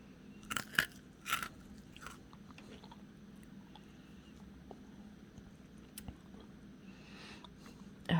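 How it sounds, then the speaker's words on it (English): Close, crisp crunches of sea grapes (lato, umibudo) being bitten and chewed in an ASMR eating session, a few clustered bites early then sparse soft crunches and a final crunch, quiet and intimate. "I have to really not let them touch my tongue at all in order to make a crunch."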